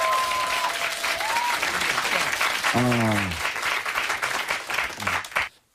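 A studio audience at a live Korean political talk show claps steadily in a sustained wave of applause, while a voice cuts through briefly midway and the clapping fades out abruptly at the end.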